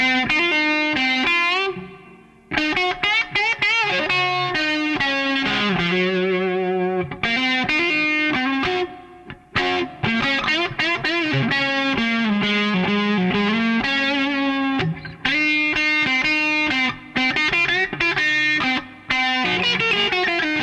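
Distorted electric guitar on the middle pickup played through a JTM45-type amplifier, a hot, driven tone with phrases of notes and bends and brief pauses between, close and loud with no voice.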